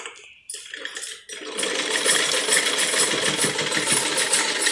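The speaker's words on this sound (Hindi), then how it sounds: "देखिए, अब हम इसको इस तरह से सिलाई कर लेते हैं।" An electric sewing machine stitches fabric for a handmade hand fan, starting with a few brief bursts then settling into a steady, continuous close-up mechanical whir.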